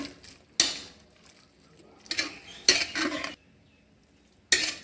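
A spatula mixes grated coconut into ivy gourd in a pan, making a few sharp bursts of metal scraping and clinking separated by quiet pauses.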